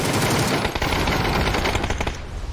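Rapid automatic gunfire rattles from a first-person shooter game in dense, continuous bursts, loud and close, without a break.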